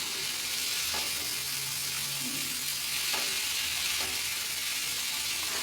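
Taro stolons stir-frying with boiled, cut jackfruit seeds, a steady sizzle with a few faint clicks and scrapes of a utensil over it, no voices.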